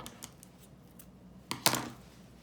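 Scissors snip through twine on a handmade outdoor loom, with a few light clicks followed by two sharper, closer cuts near the end, no talking.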